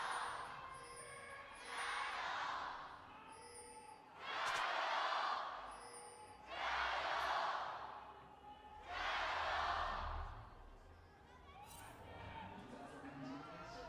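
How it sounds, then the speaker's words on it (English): An esports arena crowd at the LPL Summer Playoffs, LNG versus Top Esports, swells in repeated waves of cheering and roaring beneath a commentator's voice, rising and falling several times. "Love to hear the crowd getting into it already."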